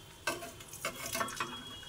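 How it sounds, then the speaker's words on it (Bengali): Singara frying in oil in a kadai, quiet and close, with a soft sizzling bed broken by a few short scraping stirs and clinks of a spoon against the pan, no voices. "সিঙ্গারা ভাজা কিন্তু ভীষণ তাড়াতাড়ি হয়ে যাচ্ছে"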